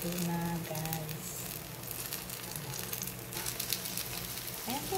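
Flour-coated banana slices fry in a pan with a soft, close sizzle and scattered crackles, while a voice speaks briefly over the cooking.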